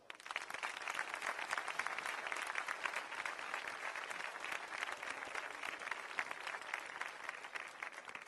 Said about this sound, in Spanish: Para ellos y ellas quiero pediros un aplauso.